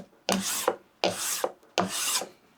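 A scraper plane with its burr side down shaves a hardwood board in three even rasping strokes, each a close scratchy pass with brief pauses between.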